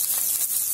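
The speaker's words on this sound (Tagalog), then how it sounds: "Nakasalang na yung ating pinipritong smoked fish." Smoked fish fries in a pan, giving a close, continuous bright sizzle and hiss with small pulses of crackle throughout the short moment.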